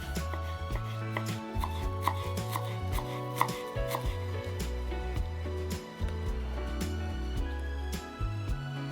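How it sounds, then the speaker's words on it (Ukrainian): A knife finely chops dill rapidly and repeatedly on a cutting board, close up, with steady quick strokes and brief pauses over a low background hum. "беремо кріп і мілко нарізаємо"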